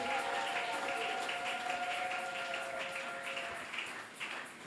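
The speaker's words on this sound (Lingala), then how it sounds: "Acclamons pour la parole de Dieu" A church congregation applauding during a service, a fairly soft, even patter of many hands clapping in a loose rhythm, with a sustained tone behind it, tapering off slightly toward the end.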